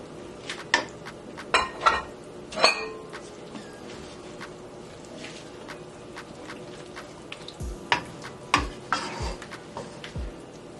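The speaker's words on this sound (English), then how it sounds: "now I'm going to add the broccoli. And just give that a nice stir." Broccoli being stirred into a pot of cream of broccoli soup, with scattered clinks and knocks of a utensil against the metal pot and a few soft splashes, close and fairly quiet with no talking.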